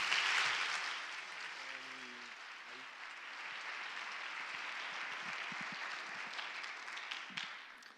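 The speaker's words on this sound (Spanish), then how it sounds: "yo quiero pedir un aplauso para él," A hall audience at a science outreach talk breaks into applause for the speaker, with a brief voice heard early on, then a broad, moderately distant wash of clapping that carries on and thins toward the end.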